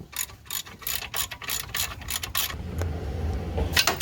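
A hand ratchet clicks in quick, rhythmic bursts while loosening stubborn, overtightened bolts on a 1974 Oldsmobile Omega, close and fairly loud, then the clicking gives way to a duller rumble with scattered knocks.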